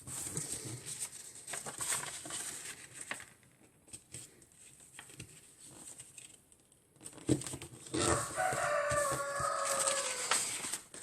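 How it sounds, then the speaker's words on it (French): A loose rooster crows outside a window, its drawn-out call rising clearly near the end over a steady background of faint tapping, rustling and patter. "mon coq s'est échappé. Il est devant ma fenêtre."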